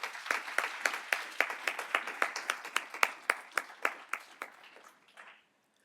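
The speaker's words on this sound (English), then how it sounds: "I think we can give that a round of applause" A small audience at a food law student leadership keynote claps, distinct individual hand claps in a steady patter that thins out and stops near the end, no voices over it.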